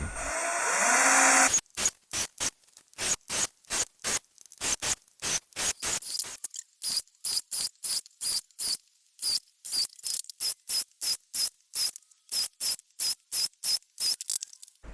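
Power drill boring dust-extraction holes in a wooden panel for a stationary belt sander mount: an opening burst, then dozens of short, evenly spaced loud drilling pulses in quick rhythm, close and alone.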